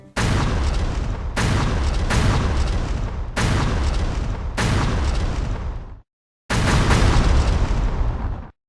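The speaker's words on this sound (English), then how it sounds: "if you do upset them, they are prone to explode" Creatures in Final Fantasy XIV explode in a series of loud, booming blasts, five in quick succession with a short gap before a sixth, each bursting abruptly and trailing off.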